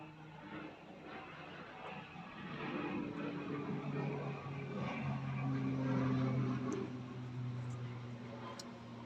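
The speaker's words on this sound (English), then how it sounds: "Forgive me the sound of the planes." Firefighting airplanes drone overhead after nearby wildfires, a distant, continuous engine hum with slowly shifting tones that swells and recedes beneath quiet indoor ambience.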